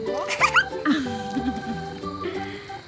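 A puppy on a farm, with a piglet nearby, lets out several short yips and whimpers near the start, followed by softer squeaky whines. A voice and background chatter are mixed in.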